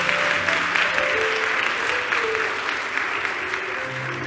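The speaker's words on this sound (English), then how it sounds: "Let's give them a big round of applause." A church congregation at St. Joseph AME Church applauds the choir, a steady wash of clapping from many hands that holds fairly level throughout, with no talk over it.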